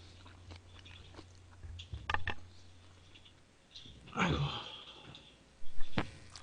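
Soft, close chewing and crunching of pork galbi near the microphone, with a few louder bites and mouth clicks against a quiet background.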